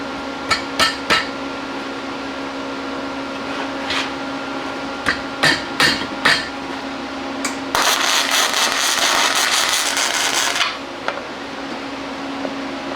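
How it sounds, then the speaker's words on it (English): Arc welding on engine hoist parts: a run of short sharp crackling bursts, then a sustained sizzling bead of about three seconds, up close and loud over a steady fan hum, with no talking. "Then we'll weld a couple spots right through here."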